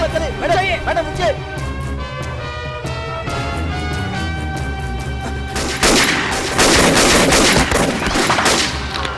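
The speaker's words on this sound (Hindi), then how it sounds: "गोली चलाने किसने कहा?" Gunfire in an action scene from a dubbed South Indian film, a dense rattle of shots building up under music and shouted dialogue.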